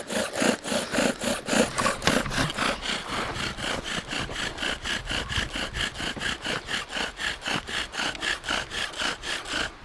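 A friction fire drill worked in long, full-length strokes on wood gives a close, raspy grinding that repeats in a steady back-and-forth rhythm of about two strokes per second, with no talking.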